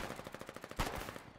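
Rapid automatic gunfire in the war video game Foxhole, a fast, even burst of about a dozen shots building to a louder crack near the end, heard clearly with no talking over it.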